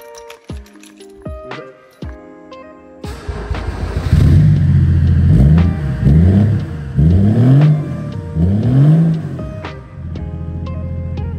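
BMW E36 diesel car engine cranking, catching and firing up, then revved several times in rising and falling surges before settling into a loud, steady idle close by.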